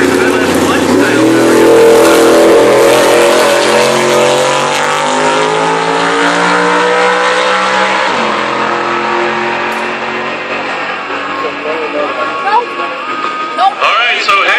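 Street race car with a 6-liter LS1-style V8 roars loudly down the strip, engine note climbing through gears then fading into the distance, with a brief burst of noise at the end.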